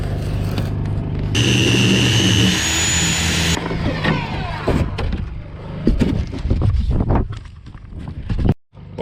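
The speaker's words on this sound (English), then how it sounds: "Sawzall works." A Sawzall reciprocating saw cuts through 2-inch rigid foam board, a loud steady buzzing run of about two seconds, followed by rustling, handling clatter and workshop noise.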